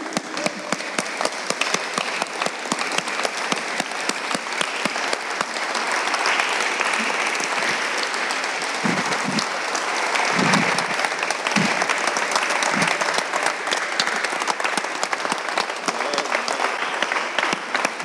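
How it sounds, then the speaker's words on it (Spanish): A church congregation applauds in sustained, dense clapping that fills the room for the whole stretch, with a few louder voices briefly calling out partway through. "Reconoce al Señor y dale un aplauso al Señor."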